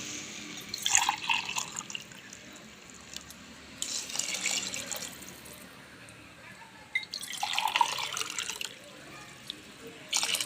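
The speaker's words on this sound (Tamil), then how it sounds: "நான் மூணு டம்ளர் அளவுக்கு தண்ணி ஊற்றிருக்கிறேன்" Water splashes and trickles in short bursts as about three tumblers are poured into a pot for biryani, with quieter pauses between pours.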